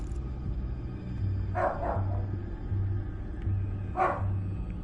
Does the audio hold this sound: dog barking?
yes